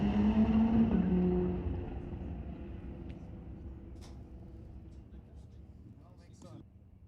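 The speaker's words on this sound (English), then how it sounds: "Bit of wheel spin there." A drag racing motorcycle at a Mission Raceway quarter-mile launches with wheel spin: a loud, close engine roar that fades over a few seconds as it pulls away, while a commentator talks throughout.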